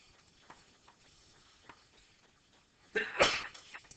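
After a few seconds of quiet with faint scattered clicks, one loud, sharp sneeze bursts out nearby, then fades quickly.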